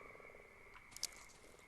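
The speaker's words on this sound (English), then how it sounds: "It's just like a constant croaking in my ear." Frog-like croaking in the horror video game Darkwood, a constant low, faint croaking drone with a couple of brief sharper accents, heard alone without talking.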